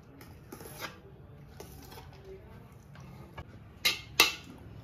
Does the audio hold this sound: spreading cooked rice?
yes